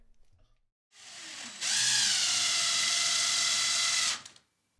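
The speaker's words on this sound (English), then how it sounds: "now we're ready to drill and plug the wall" Power drill boring into a wall to fix radiator brackets, a short lower whir rising into a loud, steady high-pitched drilling for about two and a half seconds, then stopping, alone with no talk.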